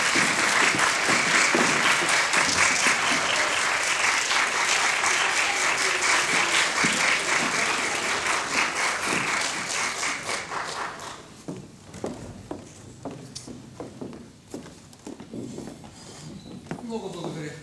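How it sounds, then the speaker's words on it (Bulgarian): Concert hall audience at a chamber ensemble performance of Peter and the Wolf claps loudly for the musicians, a thick steady ovation that thins out into scattered individual claps and fades toward the end. "Вашите силни аплодисменти за музикантите!"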